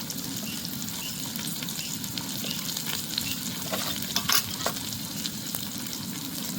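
Sesame seeds and cumin crackle and sizzle loudly in hot oil, a constant frying roar dotted with sharp pops and spatters, close up and with no voices.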